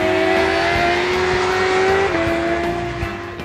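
Motorcycles on a race track hold a steady, loud engine drone under throttle, with pitch holding high and then dropping slightly as the riders shift. The sound is close and continuous, with no talking.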